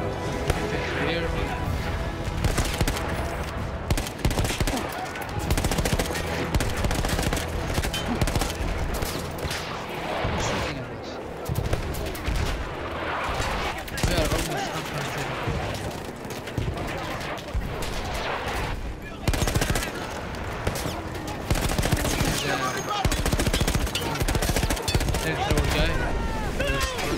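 Battlefield 1 combat on an Italian front mission against Austrian infantry, with rapid automatic gunfire and shots cracking near and loud almost without pause, explosions mixed in, and someone talking over the battle.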